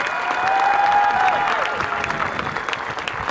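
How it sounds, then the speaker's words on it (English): Audience at a community school graduation applauding award recipients, a broad wash of clapping that swells, holds and then thins out, with a voice briefly sounding over it. "How about one more round of applause for all of our award recipients?"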